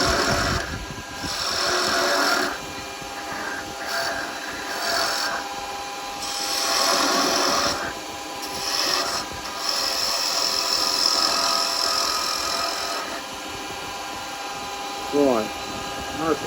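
Wood lathe spinning as a spindle gouge cuts a baby rattle, giving intermittent scraping rasps over a steady motor hum, close and fairly loud, with a brief voice near the end.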